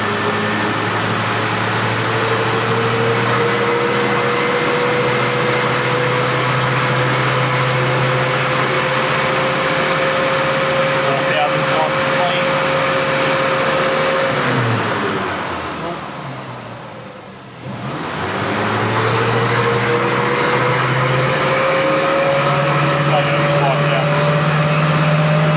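Tuned car engine revving steadily upward toward 5,000 RPM, a rising harmonic drone that briefly drops away then climbs again, loud and sustained against a broad background hum.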